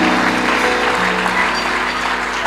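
Congregation applauding inside a church, a dense steady wash of clapping that fills the whole stretch at an even level, with a sustained low tone running beneath it.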